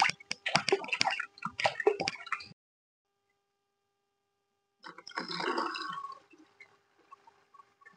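Chana dal (split chickpeas) being washed in water at home, with two bursts of sloshing, rubbing and splashing separated by a silent pause, close and moderately loud.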